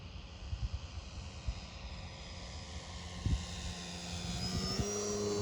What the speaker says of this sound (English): Here we come for a low pass